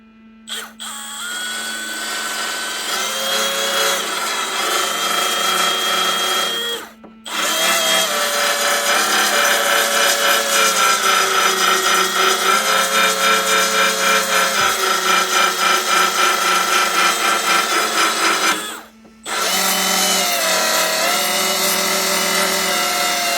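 A power tool strips paint from a metal bracket on a Colchester Triumph 2000TR lathe headstock, running loud and steady in two long spells with brief pauses between, its pitch wavering as it grinds against the metal.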